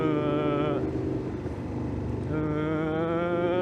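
A voice imitates a droning motorcycle engine with a cut exhaust, holding one flat buzzing pitch with a brief rougher dip in the middle.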